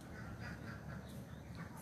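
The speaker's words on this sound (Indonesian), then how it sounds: "Ada bebek, mana bebek?" Duck quacking in repeated short calls throughout, fairly close on a morning outing, against steady low background rumble.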